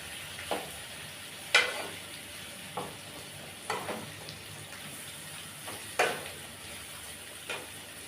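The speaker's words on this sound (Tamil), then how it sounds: "இந்த சைடு ஒரு 2 நிமிஷத்துக்கு நல்லா வதங்கட்டுங்க. உள்ள மசாலாவும் அப்போ தான் சேர்ந்து நல்லா வதங்கும்." A brinjal masala sautés quietly in a pan, with a soft background sizzle and about eight sharp scrapes and clinks from a spoon turning the eggplant at uneven intervals.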